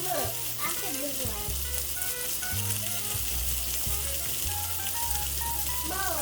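Salmon sears in a frying pan, a constant, close, dense sizzle that stays even throughout, with a child and an adult speaking over it.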